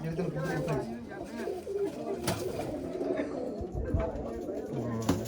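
Pigeons coo softly and repeatedly nearby while people talk over them.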